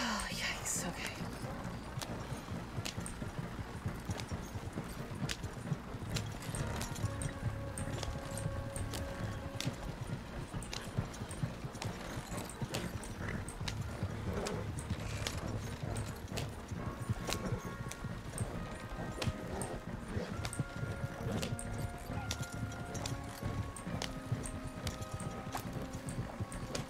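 Horse hooves clip-clop steadily on a trail in the Western roleplay game RedM, a continuous rhythmic clatter with game ambience and soft voices talking over it.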